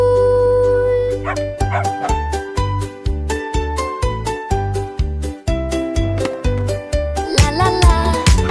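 Rhythmic dog barks and yips keep time within a bright, fast children's song, with repeated short tonal barks over a steady beat; the voices sound musical rather than like a live animal.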